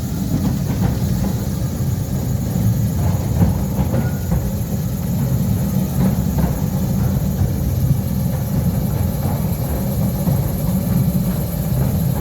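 A red battery electric Mail Rail locomotive train runs through a narrow tunnel with a steady, loud low rumble and rattling wheel noise, continuous throughout with no pauses.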